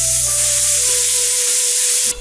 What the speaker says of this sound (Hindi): 1 सीटी हमारी लग चुकी है।